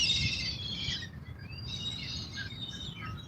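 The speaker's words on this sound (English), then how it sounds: "Them the birds back there making that damn noise." Birds by the Anacostia River call in a steady high chirping chorus, continuous and moderately near over a low outdoor rumble, with no talking.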